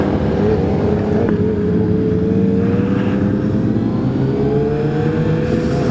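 A group of motorcycles including a Honda CBR600RR revving on a busy road, a continuous loud engine drone with rising pitch sweeps from passing bikes.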